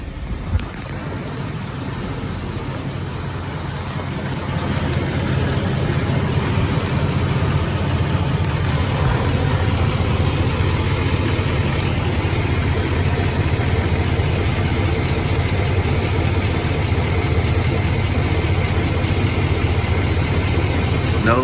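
A 2019 Duramax L5P diesel pickup, just fitted with a new fuel filter, idles with a steady low rumble that rises slightly after a few seconds and then holds even, with no talk.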